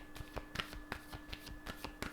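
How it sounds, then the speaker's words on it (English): A tarot or oracle deck being shuffled by hand, a run of crisp papery riffles and taps in an irregular rhythm, close and fairly quiet, with no talking. "This deck is not wanting to shuffle."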